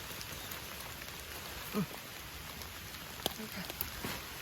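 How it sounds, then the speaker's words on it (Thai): Soft, steady rain patters continuously, with a few faint thumps and drips standing out against the even hiss. "โอ้ยฝนตก"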